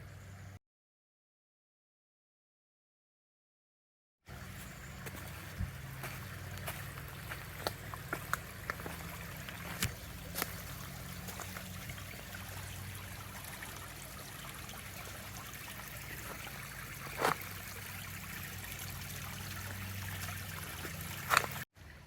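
A flowing creek heard while crossing it on a trail, a steady soft babble and trickle of stream water with occasional splashy ticks, after a brief silent gap at the start.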